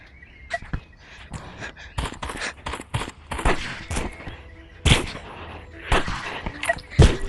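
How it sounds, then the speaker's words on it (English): Shotgun blasts in a randomized-loadout animal battle video game, a series of sharp, irregular shots scattered across the clip with the loudest bursts near the end, mixed with other game effects and faint voices. "they're using shotgun"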